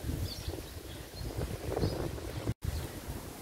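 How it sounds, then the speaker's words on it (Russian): Gusty wind buffeting the microphone in low rumbling bursts, rising and falling, with a sharp dropout near the end. "Вот ветер у нас просто"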